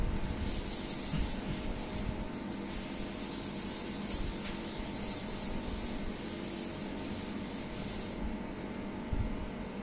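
Continuous close rubbing of an eraser or duster wiping writing off a board during a maths lecture, a steady, dense scrubbing hiss with no pause and no talking over it.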